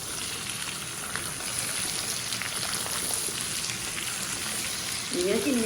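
Radish slices stir-fried in a wok with oil, scallion and ginger, giving a steady crackling sizzle with scraping stirs and a louder burst near the end.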